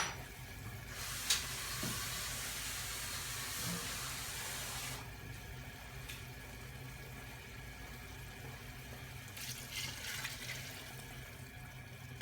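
Water poured into a bowl while cooking beef vindaloo, a steady broad rush with a brief splash at the start, continuing quietly at moderate level with no talk.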